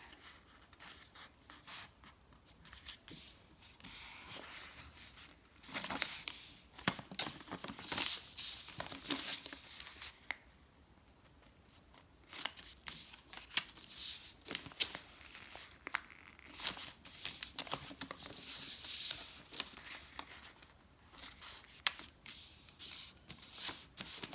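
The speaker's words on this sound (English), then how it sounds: "Then we'll take this side again and fold it until it reaches the center line, like that. Then make a crease" Sheets of paper folded and creased by hand while making a simple DIY paper box, giving soft crinkling and sliding rustles in several close bursts with quieter pauses between them.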